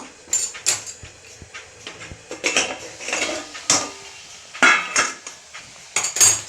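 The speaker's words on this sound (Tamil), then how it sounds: "ஒரு ரெண்டு மூணு முறை இப்படி இப்படி திறந்து வதக்கி கொடுங்க" Brinjal sautéing in a covered pan for brinjal thokku, heard as repeated clinks and scrapes of a spatula against the metal pan and lid, in irregular bursts close by with no talking.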